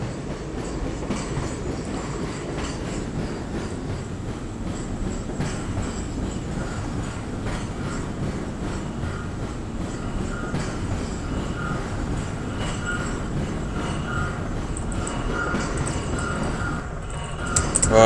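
Train rolling on rails in Half-Life, a steady loud rumble with rhythmic clickety-clack and faint wheel squeal, continuous throughout and swelling at the very end.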